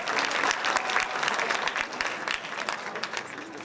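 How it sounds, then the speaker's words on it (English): An audience at an academic decathlon awards ceremony gives a round of applause, dense continuous clapping filling the room at an even, moderately loud level with a few sharper individual claps standing out. "let's hear another round of applause here"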